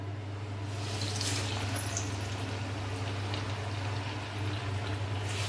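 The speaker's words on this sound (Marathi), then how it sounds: "आता तेल गरम झालेले आहे आपलं। आता ह्याच्यामध्ये आपण वडे टाकूया।" Sabudana vadas dropped into hot oil for deep frying: a continuous soft bubbling hiss over a low steady hum, even in level from start to end, with no voices.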